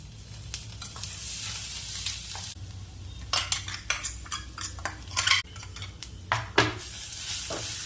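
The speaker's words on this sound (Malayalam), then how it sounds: "ഇത് പകുതി നാളികരാണ് അത് നമ്മൾ വറുത്തെടുക്കുന്നതാണ്" Grated half coconut fries in a pan for erissery, a steady sizzle broken by repeated scraping clinks of a spatula stirring against the metal, close and fairly loud with no talking.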